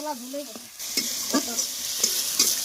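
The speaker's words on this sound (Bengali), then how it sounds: "এখন আদা রসুন এবং পেঁয়াজ পেস্টের ভাজা চলছে" A paste of ginger, garlic and onion fries and sizzles in a pan while spices cook down for a duck curry, with a steady hiss and several stirring scrapes. A few short voiced sounds come at the very start.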